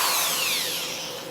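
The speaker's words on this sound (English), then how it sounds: "Now I'm going to show you how it's done using the power drill." A power drill spins steadily to twist a monofilament fishing leader, a whining motor tone that starts strong and slowly slides down in pitch as it runs alone for about a second and a half.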